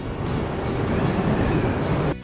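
Strong wind roars steadily into the microphone during an outdoor ride near a swamp, a loud continuous rumble that cuts off near the end.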